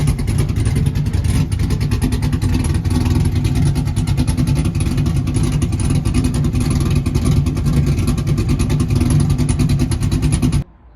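A C5 Corvette's powerful V8 engine runs close by with a deep, steady rumble and throb, sustained loudly for about ten seconds before cutting off.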